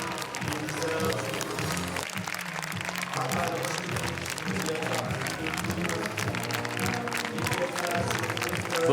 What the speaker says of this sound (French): d'applaudissements pour le film de Jean-Luc Godard